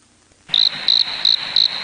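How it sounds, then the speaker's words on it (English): Crickets chirping as a comic sound effect during a podcast, four steady high-pitched pulses in an even rhythm over a faint hiss, loud and alone with no voices. "We heard you, crickets."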